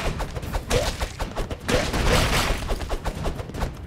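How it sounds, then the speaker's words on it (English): Explosions and rapid gunfire from the video game Broforce as enemies blow up, heard as dense, continuous bursts of crackling blasts and popping shots that fill the short stretch at loud, steady volume. "Kick ass. And they explode."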